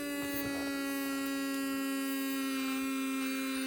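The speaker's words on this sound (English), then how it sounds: "Using the compressor from an airbrush, I blow the tank clear" A small airbrush compressor blows air through a model steam locomotive's tank in a workshop, giving a steady, buzzing motor drone with a strong tonal hum throughout.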